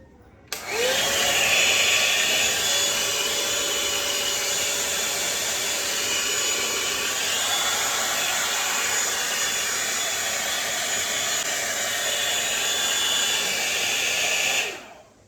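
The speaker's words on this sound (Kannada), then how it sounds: "ಸೊ ಇದನ್ನು ಡ್ರೈ ಮಾಡಿಕೊಂಡು ನೋಡೋಣ." Hair dryer blowing on hair, a loud steady rushing whoosh that starts abruptly, holds constant for over ten seconds with a faint whine, then cuts off.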